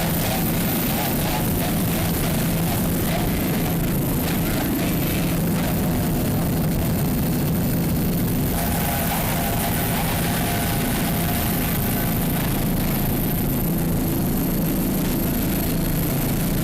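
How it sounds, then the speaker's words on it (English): Racing powerboat engines, including a 32-foot Doug Wright-designed Aerospeed Marine, roar continuously in rough offshore seas, a dense loud drone mixed with wind and spray throughout. "Coming on down now to Recycle America Alliance, another 32-foot Doug Wright designed Aerospeed Marine."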